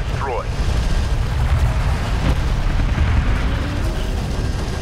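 A cruiser exploding in the video game Homeworld: Deserts of Kharak, a dense, sustained rumbling boom filling the whole stretch under continuous low battle noise.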